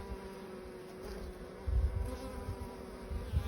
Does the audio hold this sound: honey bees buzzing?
yes